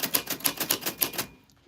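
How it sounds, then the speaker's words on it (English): A vintage typewriter clacks out about a dozen quick, evenly spaced keystrokes at close range, then falls quiet. "That's your name on a vintage typewriter."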